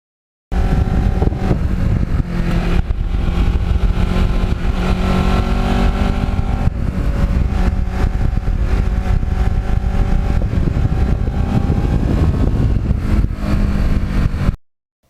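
Kawasaki Ninja, a black bike fitted with carbon fiber parts, rides along northern New Jersey back roads, its engine droning steadily and close with constant wind rush throughout, no voices.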